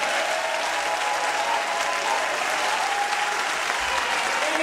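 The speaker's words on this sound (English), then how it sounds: "I would like for you to give a big hand clap" Church congregation giving a pastor a loud, sustained round of applause during a trial sermon, dense and steady throughout, with faint voices mixed in.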